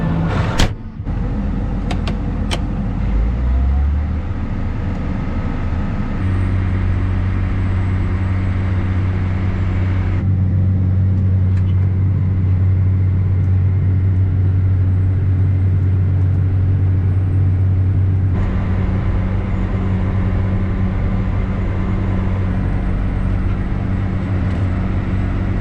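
A car travelling along a road, heard as a steady, loud engine and road drone with a low rumble throughout and no speech.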